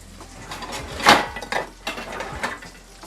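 A metal lid clanks down onto a pot of simmering spaghetti sauce, one sharp clatter followed by a few softer knocks and scrapes as it settles.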